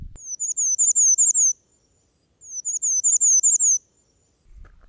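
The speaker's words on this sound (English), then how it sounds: "Bay-breasted warbler. You don't see it all that often, and it can be hard to hear, but it's a softer, gentler, shorter squeaky wheel" Two bursts of high, thin bay-breasted warbler song, each a quick run of soft squeaky-wheel notes lasting about a second, separated by a pause of silence; clean and fairly close with no other sounds.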